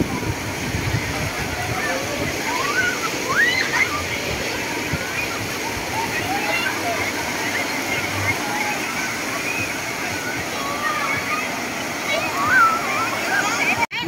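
Water rushes and splashes steadily as strong waves break at the artificial beach of Thanh Long Núi Cấm, a continuous wash with faint crowd chatter and bird-like chirps mixed in.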